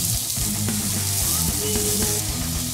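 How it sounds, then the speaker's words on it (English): Onions frying in coconut oil in a pan to caramelize, giving a loud, steady sizzle with faint clinks and tonal kitchen hum running throughout. "We're gonna caramelize some onions. Throw some coconut oil in there. Toss in your onions."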